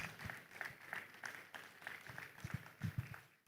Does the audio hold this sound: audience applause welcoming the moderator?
yes